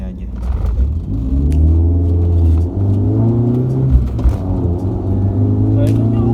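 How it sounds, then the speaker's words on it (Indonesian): A BMW E36 318i accelerating hard from first gear inside a residential complex, its engine rising in a steady continuous rumble that climbs in pitch over several seconds, loud and close, with a voice talking over it. "Nah sekarang gue coba tarikan dari gigi 1 ya"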